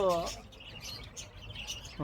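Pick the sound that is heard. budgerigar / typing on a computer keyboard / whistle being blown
budgerigar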